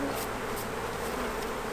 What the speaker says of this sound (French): Avant d'approcher les ruches, il faut avertir les abeilles de notre présence.